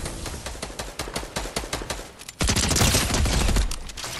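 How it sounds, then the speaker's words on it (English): Rapid gunfire in the Fortnite video game, a stream of sharp shots in quick rhythm that swells into a louder, denser burst partway through, heard alone without talk. "Someone's shooting at me."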